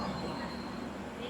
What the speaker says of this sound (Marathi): ए ती ट्रेन बघ.